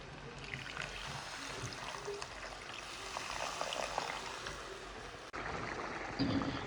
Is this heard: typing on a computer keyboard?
no